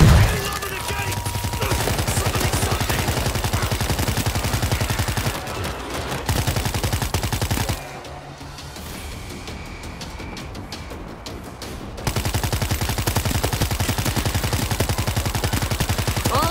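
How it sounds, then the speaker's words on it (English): Sustained .50 cal machine gun fire in the World War Z video game, loud and rapid with rounds hammering in a dense continuous stream, easing briefly in the middle before resuming at full intensity. ".50 cal, locked and loaded. Machine guns locked in."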